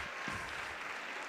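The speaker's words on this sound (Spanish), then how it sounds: "Fuerte aplauso para ellos." Audience applause at a university robotics competition event, a dense steady wash of many hands clapping, fairly loud and continuous with no talk over it.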